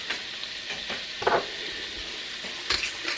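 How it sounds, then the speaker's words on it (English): Tortellini soup ingredients sauté in a pan with a soft steady sizzle and occasional scraping stirs, quiet and close. "So we're just going to saute this all together."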